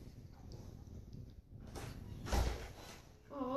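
A person comes into a house, a door sliding or thudding shut with soft footsteps and knocks, a few separate muffled bumps at middle distance, faint and irregular over a quiet room.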